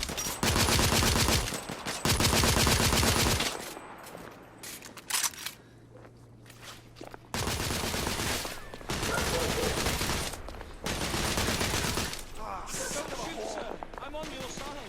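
Loud bursts of rapid gunfire from The Order 1886 video game, several long automatic volleys separated by short gaps, with shouted voices between and over the shooting.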